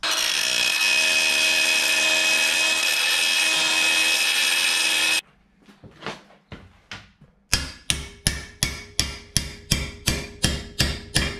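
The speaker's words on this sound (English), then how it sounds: "We'll just get a die grinder in that hole there and just clean that out." A die grinder cleans out a hole in a Toyota FJ45 exhaust manifold near the heat valve: about five seconds of loud, steady grinding, then a pause and a run of sharp, evenly spaced metallic knocks.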